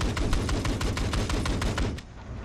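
Rapid automatic gunfire in Battlefield 4 during an Obliteration match, a dense burst of close, loud shots in quick succession that stops abruptly near the end.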